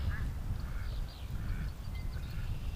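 A duck at a creek quacks several times in short calls, faint and somewhat distant over low outdoor background noise.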